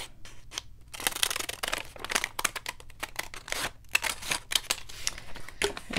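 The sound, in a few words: cutting the top off a stamped paper bag with scissors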